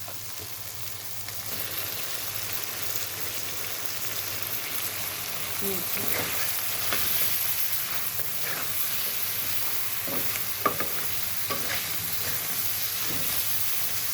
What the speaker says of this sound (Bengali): মাছটা তেলের উপরে ভাজা হচ্ছে